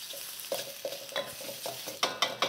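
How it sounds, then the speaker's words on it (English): Steady sizzle of tofu searing in a hot pan over high heat, punctuated by sharp scraping and stirring clatters every half second or so. "I never turn my heat down when I'm stir frying because I want that constant searing noise happening."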